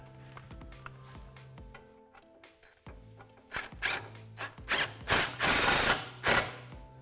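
A ratchet wrench reinstalls the factory exhaust hanger bolt on a 2015-2017 Mustang GT, its clicking rising into quick, loud bursts of ratcheting close by.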